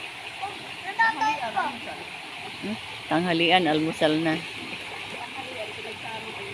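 A cold river rushes steadily in the background while people talk and chatter loudly over the flowing water.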